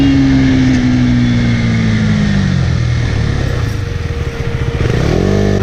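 A 2017 KTM Duke 390 motorcycle engine revs hard at full throttle, a loud close droning note that holds, dips and drops back, then climbs again near the end.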